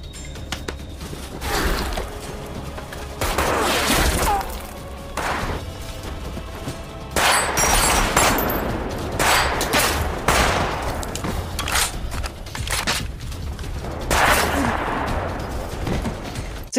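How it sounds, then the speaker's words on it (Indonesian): A gunfire shootout from the action film Re:Born, with repeated bursts of rapid shots and heavy impacts in clusters, loud and close, separated by brief lulls with scattered single reports. "Dan terjadilah aksi tembak-menembak yang sangat epik."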